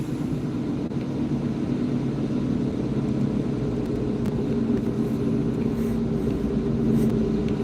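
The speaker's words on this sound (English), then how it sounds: "we're driving in the presidential Mercedes BENZ" Steady low engine rumble and road noise from inside a moving Mercedes-Benz car, continuous and even throughout with no talking.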